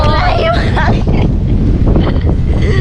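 Strong wind buffets the microphone outdoors in a dense, roaring low rumble that runs throughout, with a person talking partly masked beneath it.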